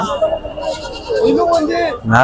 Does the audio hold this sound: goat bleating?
yes